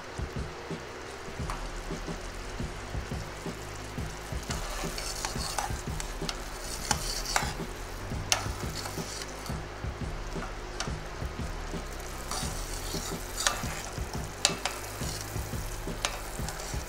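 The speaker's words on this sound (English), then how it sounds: "it's going to boil until it changes color. So pay close attention here and just stir a little bit. Starting to bubble up." Sugar syrup for homemade sugar glass boils and bubbles in a pan while being stirred, giving a steady close fizzing and popping with soft scrapes of the utensil running throughout.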